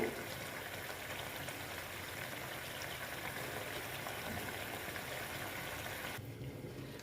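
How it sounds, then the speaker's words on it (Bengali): Koi fish curry gravy simmers over raised heat, giving a steady soft bubbling and hiss throughout. The sound dulls slightly near the end. "আমি স্টিমটা বাড়িয়ে দিলাম কারণ ঝোলটা আর একটু শুকাবো"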